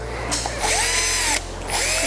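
A surgical power drill with a 2.5 mm bit drills bone for a lag screw in an orthopedic procedure, whining loudly in two bursts separated by a brief pause.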